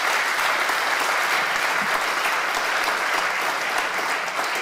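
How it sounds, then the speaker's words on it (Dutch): An audience at a small Dutch business-academy event applauds presenters with sustained, dense, even clapping that fills the whole stretch, with no one speaking over it. "Ik zou graag nog een applaus willen hebben voor de mensen die hier echt deze presentaties gehouden hebben."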